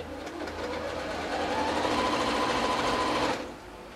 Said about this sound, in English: I'm just going to sew quickly